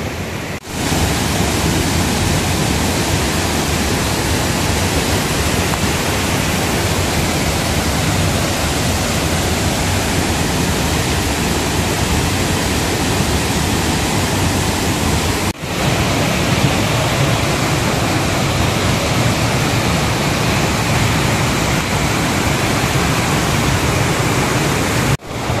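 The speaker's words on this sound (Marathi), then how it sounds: "खूप पाऊस लागलाय." Heavy rain pours near a waterfall at Bhandardara, a dense, loud, continuous roar of rushing water filling the whole stretch with only brief breaks.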